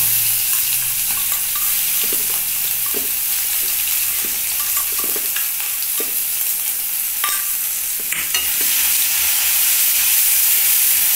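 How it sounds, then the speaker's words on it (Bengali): Whole spices dropped into hot oil in a pan for cabbage dhoka: a loud, continuous sizzle and hiss up close, with scattered clicks and scrapes of a spatula stirring throughout. "এবার যে মশলাগুলো আছে এই তেলের মধ্যে এগুলো দিয়ে দিলাম।"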